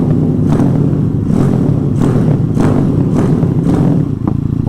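A Zongshen 212cc engine swapped into a Honda MSX motorcycle revs repeatedly in rhythmic bursts, loud and close, its low rumble rising and falling about five times; the engine is poorly tuned.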